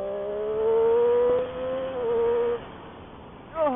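A motorcycle with a Triumph quickshifter accelerates hard, engine pitch climbing then dropping sharply at clipped gear changes, loud and close, with wind noise between shifts.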